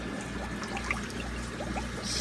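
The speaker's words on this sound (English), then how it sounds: "The water drains from this tank into this tank." Water pours from one fish tank down into another in a fish room, a steady close trickle and splash running the whole time with a low hum beneath it.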